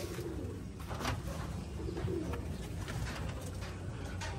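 Pigeons cooing softly in low, rolling calls, several birds close by over a steady background hum.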